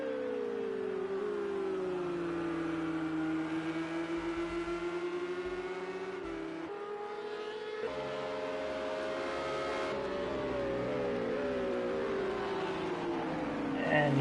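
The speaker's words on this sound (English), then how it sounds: "The Ferrari is very fast down the straights." A Ferrari race car in a PS4 racing game accelerates at Silverstone, its high engine note climbing steadily through gears along the straight, loud and sustained with other cars' engines layered in.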